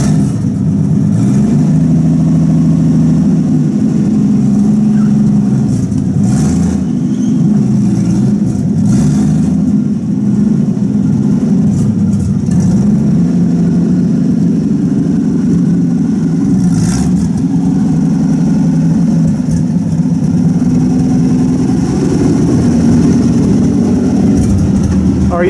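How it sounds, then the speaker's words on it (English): A vintage pickup truck idles and pulls off an old car elevator, its engine a loud, steady low rumble running the whole time with slight rises in revs, close by. "And he's going to unload this truck off the elevator."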